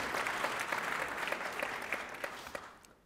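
An audience at a 2016 New Year's greetings event in Fourmies applauds a new recruit, Marie Henneron, with a soft, steady patter of clapping that tapers off toward the end.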